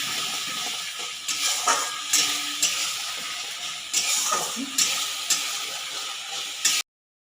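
Kashmiri chili powder and sugar being stirred into a curry masala for a simple katla fish curry, heard as a steady hiss with a series of short scraping stirs and clicks at close range, no talking.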